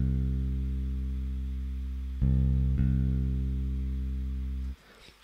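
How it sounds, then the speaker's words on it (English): Synthesized bass from the ABPL2 bass-guitar plugin in a trap-style beat: a deep sustained bass note with rich harmonics, shifting pitch twice before fading out, played alone. "The plugin replicates the sounds from a bass guitar"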